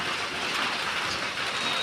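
Steady rain falls outdoors in a continuous, even hiss with no breaks across the short stretch, no voices present.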